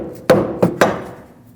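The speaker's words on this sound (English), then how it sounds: "I'm going to just try the rubber mallet method" Rubber mallet striking a ball joint stud on the front lower control arm of a 2006-2015 Lexus IS250, three sharp close blows with short ringing decay.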